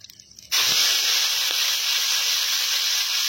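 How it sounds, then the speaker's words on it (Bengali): Chopped onions drop into hot oil with cumin seeds in a village kitchen pan, bursting into a loud, steady sizzle that holds constant right up close after a brief quiet start. "পেঁয়াজগুলো এখানে হালকা ভাজা হয়ে গেছে,"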